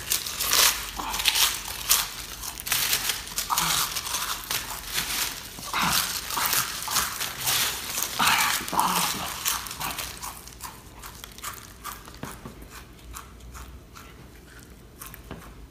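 Crunchy Rap Snacks potato chips being chewed up close, a dense run of loud crackling bites and crinkling that fades somewhat toward the end, with no talking.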